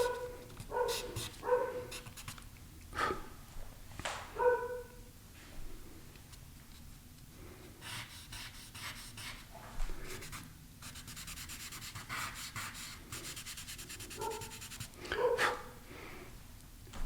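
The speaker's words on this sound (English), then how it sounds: "puppy dogs barking in the distance" Puppies bark in the distance in repeated short yapping bursts, some in quick pairs, with quieter gaps and a soft scratchy background between them.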